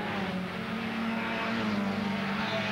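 Mini 850 race cars at Mondello Park in 1981 roar past on the track, a steady, moderately distant engine drone that swells slightly without a break.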